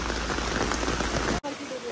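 Heavy monsoon rain pours steadily in Matheran, a dense broadband wash, until an abrupt cut leaves quieter rain with a voice briefly underneath.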